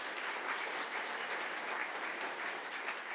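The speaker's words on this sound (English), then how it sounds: "Give another round of applause." An audience at a student-day workshop gives a round of applause: dense, steady clapping from many hands filling the room throughout, moderately loud and unbroken.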